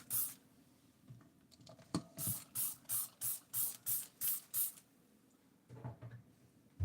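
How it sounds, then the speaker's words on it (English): Bathroom cleaner sprayed from a trigger bottle onto a used Barbie doll: about ten quick, close hissing squirts in a steady rhythm, followed by faint handling noises and a few softer spritzes. "So let me go ahead and spray it down with bathroom cleaner."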